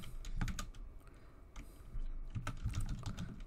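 Someone types an SQL query on a computer keyboard in a steady flurry of close, soft key clicks, alone without speech.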